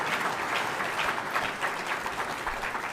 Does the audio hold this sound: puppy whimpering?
no